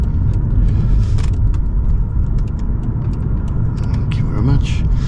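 Mercedes-Benz CL500 W215 with its 5.0 V8 in city driving, a deep steady engine and road rumble heard from inside the car, with a person talking over it and small rattles and clicks throughout.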